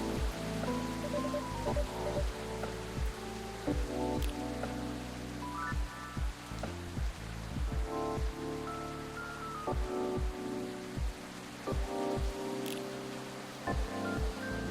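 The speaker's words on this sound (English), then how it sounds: "it is raining" Steady rainfall in the video game Coffee Talk 2, a soft continuous hiss that stays even throughout, layered under gentle melodic background music.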